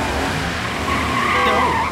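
Cartoon car tires screech in a sustained skid as the car is put into drive, loud and close, with a voice speaking over the squeal.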